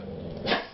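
A dog in the background gives a faint growl and a single muffled bark, distant and low in level, tailing off quickly.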